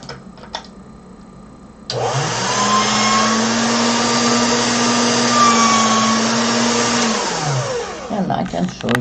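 A clay machine runs with a loud, steady motorized whir as a polymer clay daisy cane is put through it, starting abruptly after a few quiet handling noises and winding down near the end.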